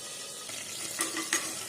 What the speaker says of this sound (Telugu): అది కొంచెం నూనె వేడెక్కాక ఆవాలు, నేను జీలకర్ర వేసాను. ఓకే, ఎండుమిరపకాయ, పచ్చిమిరపకాయలు, కరివేపాకు